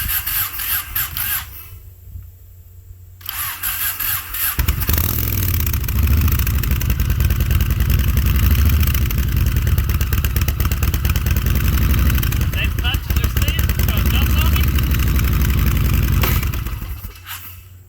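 An abandoned, shot-up Yamaha Road Star with a rebuilt carburetor starts and idles loudly nearby, a rough, steady rumbling beat for most of the stretch before it cuts out abruptly.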